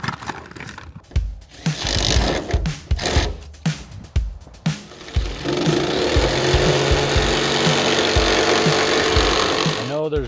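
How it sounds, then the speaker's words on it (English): Jigsaw cutting a window opening in a camper wall: after several short bumps and handling knocks, the saw runs continuously with a steady buzzing rasp, close and loud to the end. "this is all I have right now, so I'm using the jigsaw"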